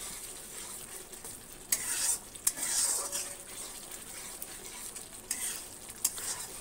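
Bengali-style jackfruit curry sautés in a pan, a soft continuous sizzle broken by several scraping stirs of a spatula, loudest around two to three seconds and again near the end, with no talking.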